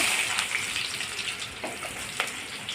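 Chopped onion dropped into hot oil with cumin seeds fried until browned, for sandgechi bhaji, giving a steady close sizzle and crackle with a few sharper spits, no voices.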